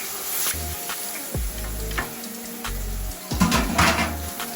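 Jerk chicken pieces fry in a hot pan with a steady sizzle throughout, broken by a few low thumps and clatters as pieces are handled, with no talking.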